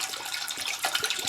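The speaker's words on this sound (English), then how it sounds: "I just pour a few bottles in there, enough that I think is enough to cook those 2 bags of noodles" Water poured from bottles into a pot on a stove for cooking noodles, a steady splashing gush throughout the short stretch, close and fairly loud.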